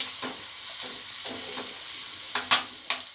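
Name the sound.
onions frying in tempering for sarson ka saag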